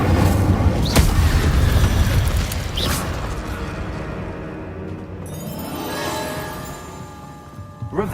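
Fiery spell-casting bursts in Hogwarts Legacy: a sharp boom near the start, then crackling, roaring flame effects and mechanical creaks fading out, loud and close with no speech.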